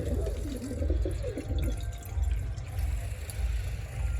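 A tap runs water in a village yard, a steady, soft splashing stream under a low rumble with no break.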